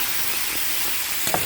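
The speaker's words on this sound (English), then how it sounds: "I saute it a little." Minced ginger sautéing in a pan for a vegetable shrimp stir-fry noodle dish, a steady close sizzle and frying hiss with a brief stir clatter near the end, no talking.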